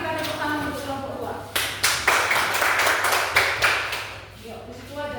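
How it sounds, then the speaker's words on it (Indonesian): A small group claps for a presenting group in a classroom or meeting room, with scattered individual claps building into a brief round, and talking at the start and end. "Mari kita tepuk tangan untuk kelompok 2."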